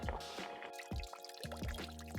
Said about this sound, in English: in goes the rest of the water